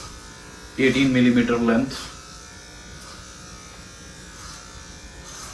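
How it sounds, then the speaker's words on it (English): Electric hair trimmer fitted with a 3x4 inch blade cutting a man's hair at a cheap barbershop in Canada, a steady close buzz running throughout while someone talks over it. "she is using that 3x4 inch blade on it to cut my hair"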